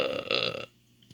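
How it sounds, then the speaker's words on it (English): A cartoon character lets out one long, loud burp that stops abruptly, followed by near silence. "I just needed to burp."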